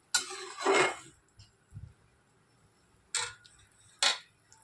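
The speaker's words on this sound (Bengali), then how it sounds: "এবার এটাকে নাড়াচাড়া করে নেব।" Raw mango sour chutney being stirred in a pan on the gas: a few sharp scraping clinks of the spoon against the pan, spaced apart and fairly close, with quiet pauses between.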